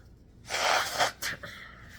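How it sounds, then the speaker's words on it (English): A person blows their nose in two forceful bursts, one long and loud and a shorter one after it, close and alone with no talking. "let me blow my nose."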